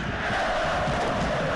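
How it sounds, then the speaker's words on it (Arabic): Football crowd at an Ismaily versus Al Ahly match in a stadium, a steady broad roar of many voices holding at a constant level for the whole moment, with no pauses. "ادي الجماهير"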